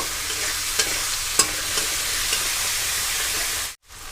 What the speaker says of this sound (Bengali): টমেটো কুচি নরম হওয়া পর্যন্ত মশলাটা খুব ভালো করে নাড়াচাড়া করে রান্না করে নেব